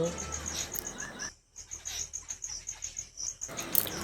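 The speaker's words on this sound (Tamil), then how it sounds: "காலையில் இந்த குருவி சவுண்டை மட்டும் கேளுங்க, சூப்பராக இருக்குங்க." Small sparrows chirp steadily in a high, rapid twitter in the morning from a bael tree in Odisha, with a brief lull in the middle, against faint outdoor background noise.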